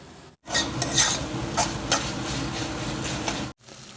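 Gongura dried prawn curry simmering and releasing its oil in a pot, a steady bubbling sizzle with a few stirring scrapes, cut off abruptly at both ends.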